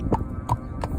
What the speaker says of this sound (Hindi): तभी जमींदार स्वयं घोड़े पर सवार होकर वहां पहुंचता है।